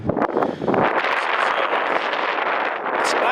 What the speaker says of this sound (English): but the wind just, bleh. It's been like a constant breeze.